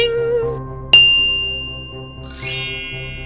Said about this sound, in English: Ding, ding.